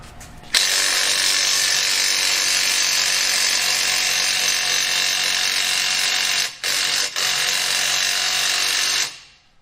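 A Snap-on 3/8 impact wrench works against a 21 mm stud lug nut on a ProMaster diesel van, running in one loud, continuous buzzing burst for about nine seconds, with two brief dropouts near the end before it stops.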